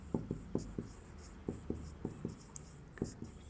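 Chalk or marker taps and strokes on a board as a numerical answer is written out, a steady run of short, crisp marks spaced through a quiet room with no talking.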